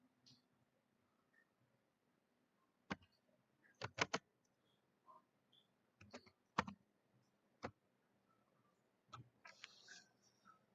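Keystrokes on a computer keyboard while entering an ls command in an Ubuntu 20.04 terminal: sparse, crisp clicks in small irregular clusters, close and fairly quiet against a low room hum.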